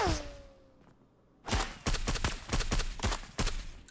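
Gunfire in the video game Marauders: after a quiet opening with a faint falling tone, a loud run of rapid shots and bursts crackles steadily through the rest, close and dense with no talk.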